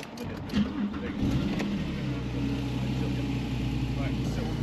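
A Porsche 997.2 Turbo engine catches on its first start and settles into a deep, even idle, close by, with people talking over the opening moments.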